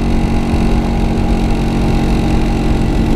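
A Vespa scooter's small engine idling close by, a loud, steady, buzzing putter with no talking.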